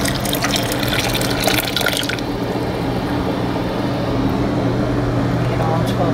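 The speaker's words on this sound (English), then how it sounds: "hot jars are coming out of the water." Hot canning jars coming out of a boiling water bath while making pomegranate jelly, with steady splashing and dripping water loud for the first two seconds, then a continuous bubbling hum from the pot underneath.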